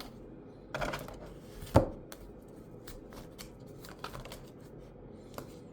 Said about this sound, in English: we're just gonna shuffle some cards on that note